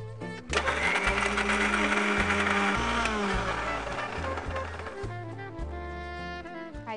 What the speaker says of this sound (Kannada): ನಾನು ಮಿಕ್ಸಿ ಹಾಕೊಂಡ್ಬರ್ತೀನಿ